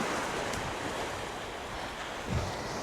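Strong wind buffets the microphone on Cambois Beach in Northumberland while someone fishes, a constant roaring rush mixed with surf, with a brief heavier gust near the end and no talk.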